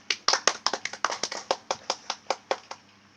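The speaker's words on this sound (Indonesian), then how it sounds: "Tepuk tangan anak-anak" Schoolchildren in a classroom clap their hands in unison, about sixteen distinct, evenly spaced claps in a quick rhythm, close and clear against a quiet room.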